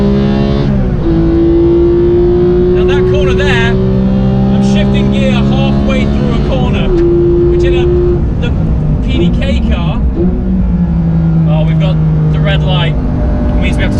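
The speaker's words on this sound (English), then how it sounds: "In this car, you're building speed, and so you're building revs" Porsche GT car on a racetrack, its engine loud and close as it accelerates and revs, pitch climbing steadily then dropping at gear changes around 7 s and 10 s before building again.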